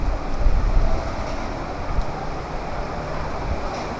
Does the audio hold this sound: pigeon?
no